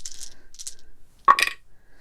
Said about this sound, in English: So we're going to be rolling 5 dice,